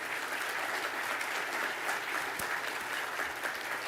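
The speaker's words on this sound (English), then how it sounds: "I want you to give yourselves a round of applause, because you deserve a lot of credit." An audience at an awards dinner applauds, steady continuous clapping at moderate distance filling the whole stretch with no talk over it.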